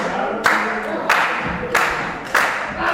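A crowd at a grappling match clapping in rhythmic bursts, each surge arriving about every half second, with a commentator talking over the steady background noise of the audience.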